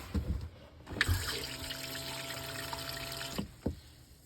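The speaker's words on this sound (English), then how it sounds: "The battery also helps to flush the toilet." A battery-assisted toilet flushes inside a Northstar 850SC truck camper: a short rush of water with a steady pump whine lasts about two seconds, then stops abruptly, with a few soft clunks before and after.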